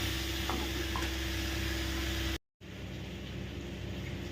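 Papaya curry is stirred in a frying pan over steady sizzling, a continuous crackling hiss broken by a brief silent gap before resuming.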